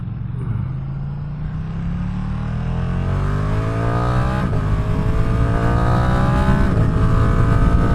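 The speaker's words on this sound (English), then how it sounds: "That truck is hauling ass." A pickup truck's engine revs and climbs in pitch as it speeds up and passes close by, loud and steady throughout.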